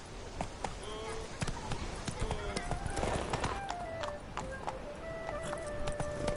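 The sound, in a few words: horse Roach's hooves clip-clopping, from a video game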